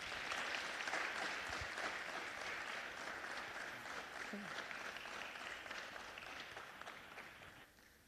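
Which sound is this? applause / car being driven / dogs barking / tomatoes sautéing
applause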